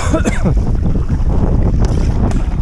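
Strong wind blows across a beach shoreline with stand-up paddlers on the water, a loud continuous rushing roar buffeting the microphone with no break.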